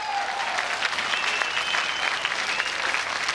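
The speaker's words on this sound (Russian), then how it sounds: "Аплодисменты!" Steady applause from a Russian television game show studio audience, dense and continuous clapping throughout with no talking.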